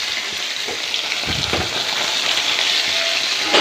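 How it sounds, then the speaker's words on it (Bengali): Fish fries in a pan with a loud, dense, continuous sizzle and spatter, a brief stirring bump partway through, no one speaking. "চলো আমি মাছটা ভেজে নিই"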